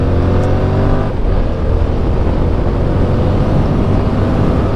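A Yamaha MT-07 motorcycle engine drones steadily while being ridden on an unfamiliar road, loud and continuous with a rich low rumble and a slight dip partway through.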